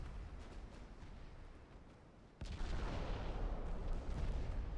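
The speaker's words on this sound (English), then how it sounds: "Is Charleston firing both turrets or one?" Warship gun turrets fire during a naval battle in Ultimate Admiral Dreadnoughts: a dull rumble of distant cannon fire rolls along, then a louder, heavy boom hits midway and keeps roaring, with no voices in between.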